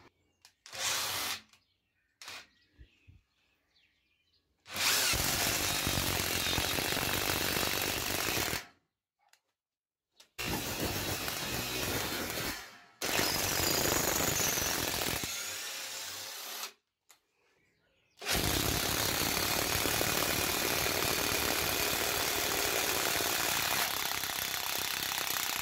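Two power screwdrivers drive 10x300 mm screws in alternating long runs: loud, close whirring bursts several seconds long, separated by short silences and a few brief trigger blips at the start.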